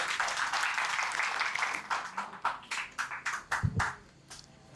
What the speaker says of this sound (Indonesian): Kita tepuk tangan dulu buat Bang Dawi.